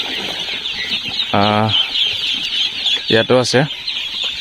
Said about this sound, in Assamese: ইয়াতে 400 আছে 2 দিনীয়া পোৱালি।